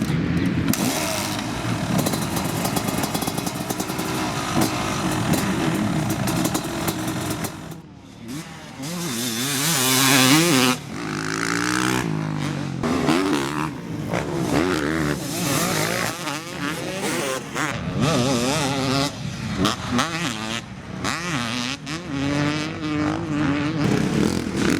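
A 1990 Kawasaki KX250 two-stroke motocross bike is ridden hard, its high, raspy engine screaming and rising and falling through revs and shifts, loud and continuous for the whole stretch with no speech.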